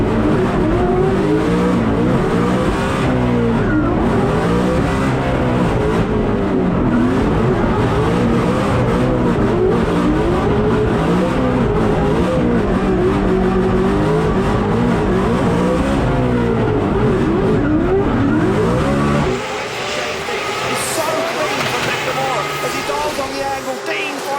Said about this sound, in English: They come off the line, ready to go as both cars pop off the tarmac, into gear and through across the circuit.